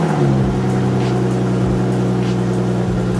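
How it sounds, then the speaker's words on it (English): A Toyota Supra engine running just after starting for the first time in months, a steady low idle with a slight rise and settle, close and alone. "I finally get to stick the key in the ignition and hear this thing start for the first"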